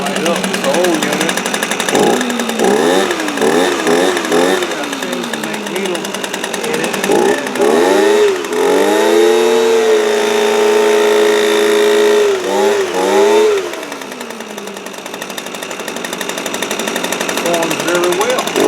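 Echo leaf blower with new parts, cold-started after several sharp pull attempts, its small two-stroke engine catching and revving loudly, dropping to idle and revving again close by.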